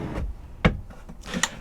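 A drawer in a motorhome slides open with a brief rubbing scrape and a soft wooden knock, close by, over low room noise.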